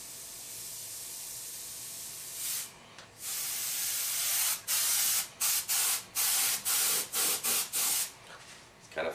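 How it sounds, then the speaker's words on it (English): An airbrush sprays paint to build a marble effect, making a steady close hiss that breaks into a run of short spray bursts separated by quick stops. "So now I can go in with my airbrush and refog that."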